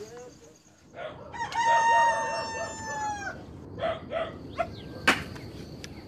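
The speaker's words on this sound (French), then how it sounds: "Le coq chante à 4h15 ce matin." A rooster crows early in the morning at a rural home in Indonesia, one long clear cock-a-doodle-doo in the foreground followed by shorter clucks and calls from other fowl.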